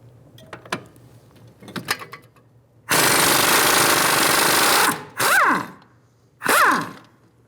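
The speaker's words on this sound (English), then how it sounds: "I'm going to use a impact gun, and I'm just going to spin it" An impact gun spins the nut off a rear strut bolt on a 2007-2011 Toyota Camry: one long, loud buzzing hammer burst, then two shorter bursts that wind down, after some quieter clinking.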